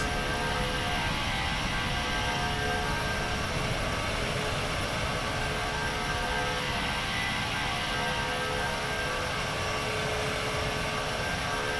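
MD-11 freighter jet climbing in X-Plane 12, a steady loud engine roar with a constant droning hum and faint tonal whine, unbroken for the whole stretch.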